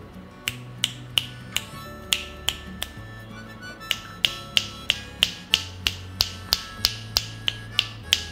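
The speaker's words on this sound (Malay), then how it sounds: "Saya akan petik jari pada sekeliling mikrofon ni" Sharp single finger snaps made at different positions around an omnidirectional microphone, about two per second in a steady series, crisp and close, with faint background hum and no talking.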